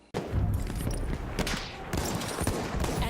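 Battlefield 1 artillery airstrike in a video game, a dense barrage of gunfire and blasts rumbling continuously with sharp bursts throughout, loud and close.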